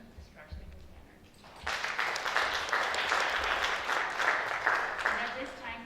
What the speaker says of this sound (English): a round of applause for Casteel Jazz Choir